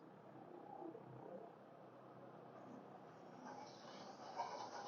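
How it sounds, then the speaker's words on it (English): A steady broadband rumble of a Red Line train passing by in Cambridge, Massachusetts, continuous and moderately loud throughout, with a faint high squeal near the end. "Another train is there passing by."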